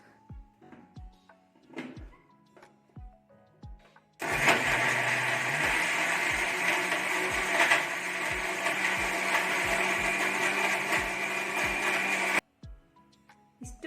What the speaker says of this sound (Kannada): ಈಗ ನೀರನ್ನು ಸೇರಿಸ್ಕೊಂಡು ನುಣ್ಣಗೆ ರುಬ್ಕೋಬೇಕು ಇದನ್ನು